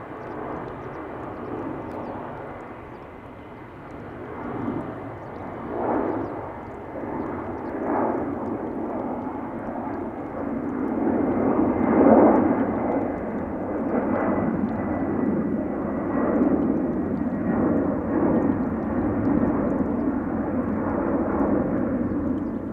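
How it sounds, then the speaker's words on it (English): A TUI Boeing 767 bound for Bodrum takes off from Amsterdam Schiphol's center runway, a steady moderate jet rumble with pulsing waves of engine noise that swells midway and holds at a distance. "Classical sound of the 767."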